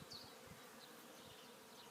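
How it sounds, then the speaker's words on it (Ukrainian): A honeybee buzzes faintly and steadily at an apiary, a soft continuous drone with no voices over it. "ось так працює бджола"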